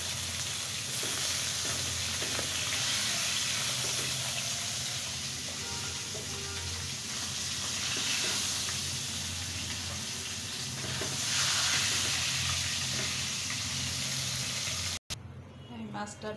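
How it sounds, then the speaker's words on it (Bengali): Tilapia sizzles and crackles steadily as it fries in hot oil in a pan, a dense, even hiss that carries on for about fifteen seconds before cutting off abruptly. "আমি মাছটা ভেজে উঠিয়ে নিয়েছি।"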